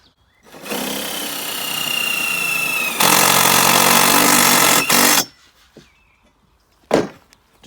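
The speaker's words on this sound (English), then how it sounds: "we'll take our drill and our little self-tapping bolt, and we'll just join it on the" A power drill drives a self-tapping bolt into the frame of a small polythene hoop house: a loud, steady whirring run that rises to a harsher, heavier pitch partway through, then stops abruptly, followed by a single sharp knock.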